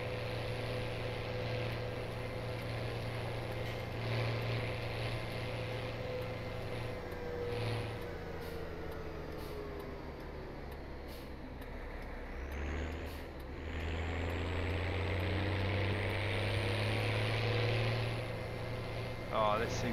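Tractor engine in the video game Farming Simulator 17, a deep, steady diesel drone running continuously with a low throb that shifts in pitch partway through, while someone talks over it.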